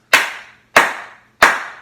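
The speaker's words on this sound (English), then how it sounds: "And we clap 3 times." Three sharp, evenly spaced hand claps, loud and close, each ringing out briefly before the next, with no talking.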